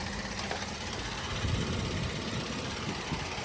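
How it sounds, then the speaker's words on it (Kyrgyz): Engine of a 2020 Kia Carnival with a 3.4-litre gas-and-petrol engine idling, a low, even rumble held steady throughout, fairly quiet and close, with no voices. "мотор сонун болуп иштеп турат"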